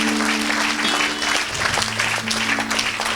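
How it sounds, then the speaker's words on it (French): An audience at a French-language church gospel service claps loudly and steadily, filling the whole moment with dense applause and a little crowd noise. "Tu peux acclamer pour ça très fort."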